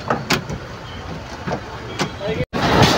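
Busy railway station platform ambience with a train on the way to Nepal: steady rumbling rail and crowd noise, scattered clanks and thumps, and voices talking in the background.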